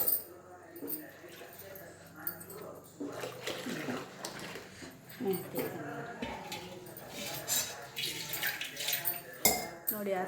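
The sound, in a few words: stirring rice flour dough in a pot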